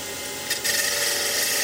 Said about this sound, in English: get a lovely cut with that skew on the end grain.